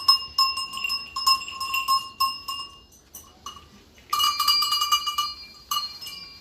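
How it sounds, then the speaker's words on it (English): A small, rounded metal bell from a Swiss village rings in two clear bursts of bright, sustained clanging strikes separated by a short pause, close and loud with no voices. "So we see very rounded bells."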